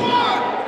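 A wrestling crowd at a RUGGEDPro event roars in a dense, loud wash of cheering, a brief sustained swell with no distinct voices standing out.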